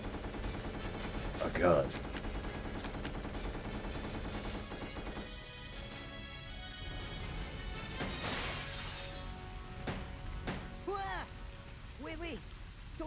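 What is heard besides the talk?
gunfire in video game Resident Evil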